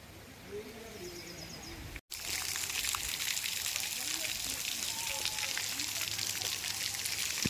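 Gravity-fed garden fountains in Udaipur, supplied from a lake without motors or pumps, splash and hiss steadily after a brief cut. Faint birdsong and trickling come before it.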